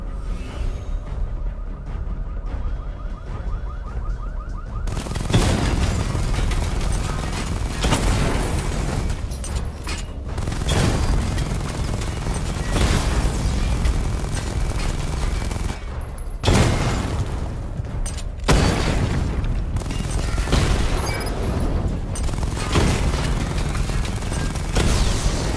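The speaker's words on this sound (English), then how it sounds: "Charge the missile barrage to level 2 to destroy up to 4 targets at once." Missile barrage explosions in Batman: Arkham Knight, a short quiet lead-in giving way to loud, repeated blasts and rapid bursts arriving in several dense waves.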